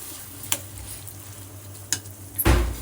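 Vegetables for a veg biryani frying briefly in a pan, a steady low sizzle with a few sharp stirring scrapes and a louder burst of frying near the end.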